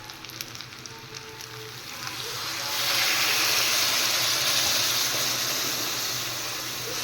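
Water poured into a hot pan of chilli chicken sets off a loud rising sizzle and hiss that swells and holds steady, close by.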